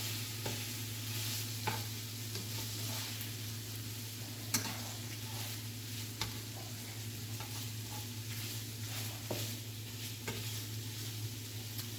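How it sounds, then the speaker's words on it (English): Italian sausage browning in a pan with its own fat, a constant low sizzle and crackle with occasional utensil clicks and scrapes, steady and fairly quiet. "now we're getting some of that smell from that Italian sausage as it's browning up"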